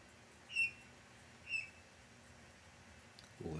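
A bird squawks twice in brief, high chirps about a second apart, faint and distant against a quiet indoor room tone.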